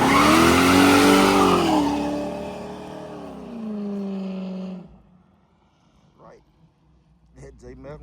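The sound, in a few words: car engine running after carburetor tune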